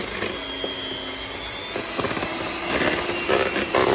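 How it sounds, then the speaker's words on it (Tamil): Electric hand mixer beating sugar with condensed milk in a bowl, a steady close whirring drone with shifting tone and clattering beater noise as the mix thickens. "இப்போ சுகரும் கண்டென்ஸ்ட் மில்க்கும் சேர்த்துட்டு நல்லா எல்லாமே மிக்ஸ் ஆகிற வரைக்கும் பீட் பண்ணி எடுத்துப்போம்"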